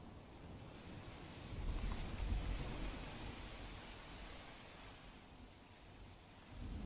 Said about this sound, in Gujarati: સવારથી જ ગાજવીજ સાથે વરસાદની શરૂઆત થઈ છે